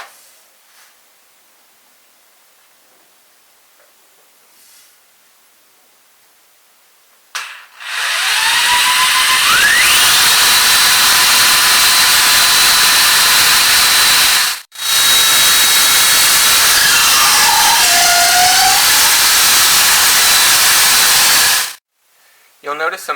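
A wooden dowel is spun in a drill and forced through a sizing hole in a metal plate, making a loud, sustained grinding hiss that begins after a quiet stretch, cuts out briefly midway, then resumes until stopping near the end.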